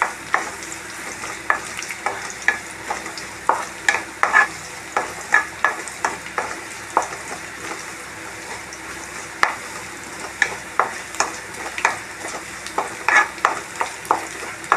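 Eggplant frying in a pan, a steady soft sizzle beneath repeated rhythmic stirring and scraping strokes of a utensil against the pan, close up and with no talking.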